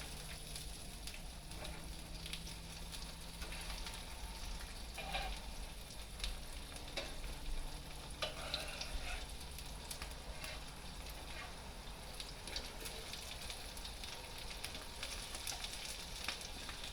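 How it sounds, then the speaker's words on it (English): Eggs fry in hot grease in a pan, a continuous crackling sizzle with scattered pops and spatters as grease is spooned over the tops. "I'm going to take some of this grease and I'm going to splatter it on the egg tops"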